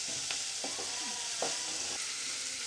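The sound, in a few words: stirring tomatoes with salt in a frying pan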